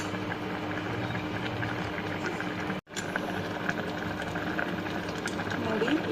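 Lentils for spinach sambar boil in a pot with a steady, close bubbling and simmering texture, broken by one brief dropout midway, under a speaking voice.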